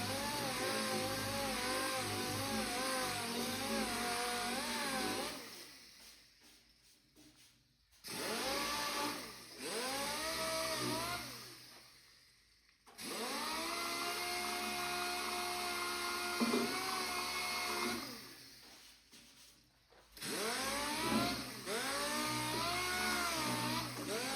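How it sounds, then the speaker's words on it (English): A power sander rolls over car bodywork being prepped for priming, its motor whining at shifting pitch that rises and falls with pressure, running in several stretches broken by brief stops, close and steady. "To do the suds, you just want to roll the sander over it."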